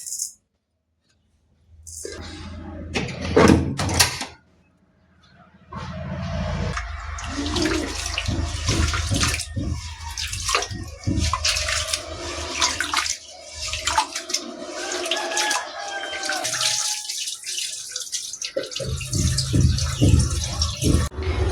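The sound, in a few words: pouring water into pot of rice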